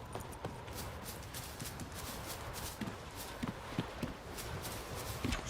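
Horse hooves clip-clopping in The Witcher 3, a steady run of close hoofbeats over a constant ambient bed, with occasional heavier thuds toward the end.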